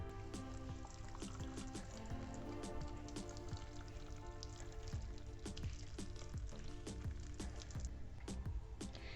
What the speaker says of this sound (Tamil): அதை போட்டு இப்போ இந்த பன்னீரை வடிகட்ட போகிறோம்.